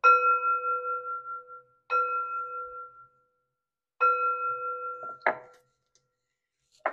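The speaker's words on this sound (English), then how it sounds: "3 chimes to bring in positive energy." Three chimes struck one after another to bring in positive energy, each a clear, sustained metallic tone that rings out and fades, followed by a couple of brief rustling knocks.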